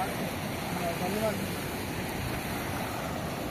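The Noyyal river near Coimbatore flows strongly, a steady broadband rushing and churning of water filling the scene, loud and continuous, with a faint voice briefly over it.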